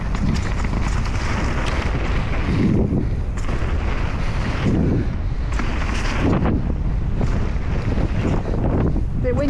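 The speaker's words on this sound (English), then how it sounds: "Bit windy now actually." Gusting wind buffets a helmet-mounted microphone during a mountain bike descent on a downhill trail, a loud roaring rumble that swells and pulses with the ride's speed, with occasional rattles from the terrain.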